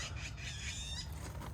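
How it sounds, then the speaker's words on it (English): Birds call loudly and continuously outdoors beside railway maintenance equipment, overlapping chirps and squawks over a steady low rumble of background noise. "Birds get kind of loud."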